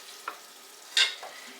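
Meat is stirred in a heavy pan: a quiet background sizzle with a light tap, then one louder scraping clatter near the middle and a softer scrape after it.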